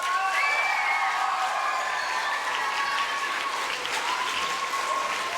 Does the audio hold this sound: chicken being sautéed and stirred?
no